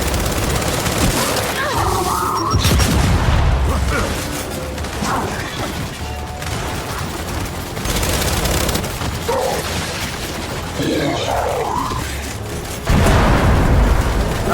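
A frag grenade explosion amid Gears 5 combat, heavy booms and bursts of gunfire and mechanical clatter in a loud, dense battle mix, with shouted voices between blasts.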